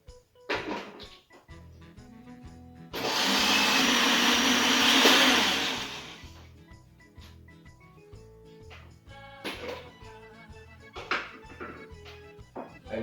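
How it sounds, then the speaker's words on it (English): A blender whirs loudly for about three seconds as it mixes a monk fruit sweetener batter, then falls quiet while a person talks and kitchen clatter continues. "So we're gonna blend it up."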